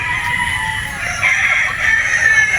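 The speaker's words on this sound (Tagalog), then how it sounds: "yung ating mga alagang manok na mga pulit" Pullet chickens clucking and calling together in a steady, busy chorus, fairly close, with no pauses.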